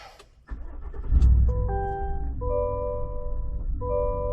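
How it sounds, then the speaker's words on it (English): A Chevy Silverado ZR2 pickup cranks briefly and fires up, settling into a loud, steady idle with droning harmonic engine tones and a few chimes sounding over it. "Let's go ahead and try to start the car, see what it does."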